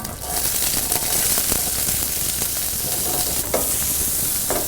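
Small shallots sizzle and crackle in hot oil in a Kerala kitchen, a loud continuous frying hiss with occasional stirring scrapes.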